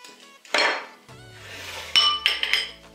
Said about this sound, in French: Donc j'additionne le miel et on va bien mélanger.